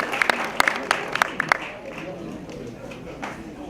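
An audience at a Moroccan cinema event applauds a young woman with scattered sharp claps that thin out into a murmuring crowd, while a voice speaks over the clapping.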